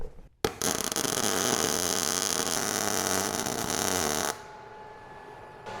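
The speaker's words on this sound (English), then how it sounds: "We'll lay down some weld here and see what it looks like." Arc welding on a steel welding table fitted with wheels: a loud, steady crackling buzz starts abruptly after a brief pause, runs for about four seconds, then cuts off, leaving a low background hum.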